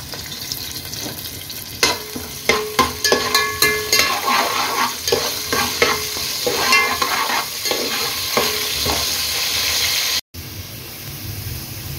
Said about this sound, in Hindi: एक प्याज है, जीरा है और 3-4 काली मिर्च। इसको हम फ्राई करेंगे।